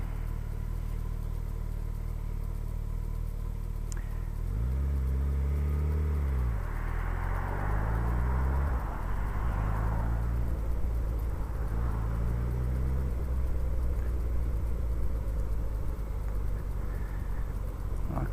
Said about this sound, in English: the motor on this one isn't quite as smooth